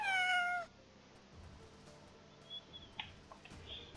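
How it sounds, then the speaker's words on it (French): A cat meows once in the Roblox video game, a loud, bright, rising cry at the start, followed by quieter scattered chirps and faint game blips. "Ça, c'est des chats boxeurs"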